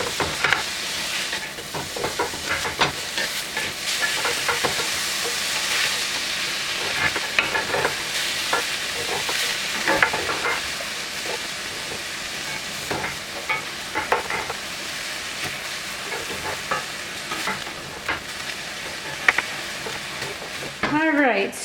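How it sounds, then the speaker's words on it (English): Seasoned ground beef browns in a pan, giving a continuous loud sizzle and hiss with repeated scraping stirs, all close up and lasting the whole stretch. "I'm going to cook it until it's browned"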